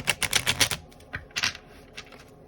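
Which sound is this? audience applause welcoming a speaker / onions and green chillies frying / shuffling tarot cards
shuffling tarot cards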